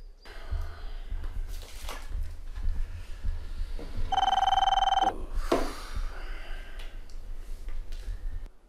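A phone rings loudly up close, one sharp electronic ringing burst of about a second amid rustling and handling noise, with short vocal sounds around it.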